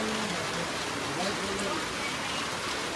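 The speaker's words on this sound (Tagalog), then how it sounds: "malakas pa rin yung ulan doon" Heavy rain pours steadily outside a house where people shelter, a dense, continuous hiss of falling water that stays loud and even throughout with no pause.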